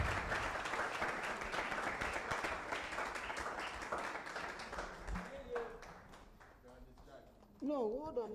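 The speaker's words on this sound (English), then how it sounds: "Clap for you." Applause from a workshop audience rings out for a participant, dense clapping filling the room for several seconds, then fading as voices and a brief tonal sound take over near the end.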